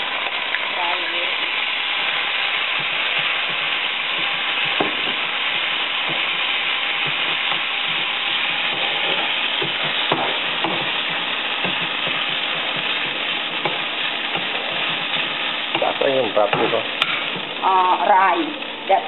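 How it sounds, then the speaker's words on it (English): Garlic and jasmine rice fry in a pan for a traditional Southeast Asian pork rice soup, giving a steady, close, loud sizzle with occasional stirring scrapes and clinks throughout. "Now the garlic turn it brown. I need to fry it."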